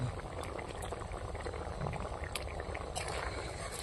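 Egg curry with green peas simmers and bubbles in a pan while being stirred, a steady, close, busy crackle and gurgle with faint utensil clinks scattered through.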